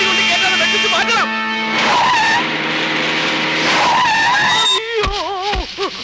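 A car swerves with loud, sustained tire skidding and squealing across several seconds, rising and wavering in pitch, with speech mixed in near the end.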